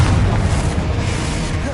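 A Confringo spell explosion in Hogwarts Legacy on PlayStation 5 makes a loud, sustained booming roar, dense and rumbling throughout with no clear break.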